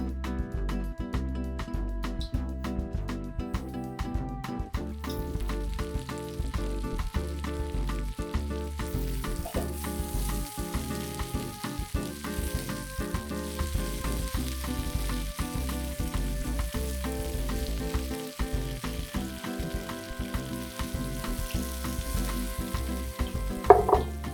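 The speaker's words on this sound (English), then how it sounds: "I'm going to turn them as they're frying." Steady crackling sizzle of mushroom tempura frying in hot oil, continuous and close, with no voices.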